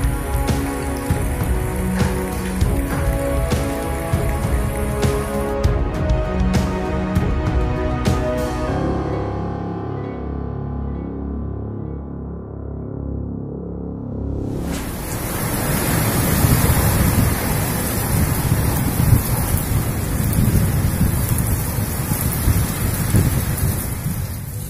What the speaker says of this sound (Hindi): गजब बारिश हुई भाई, ये हाल है। बर्फ, गजब बारिश।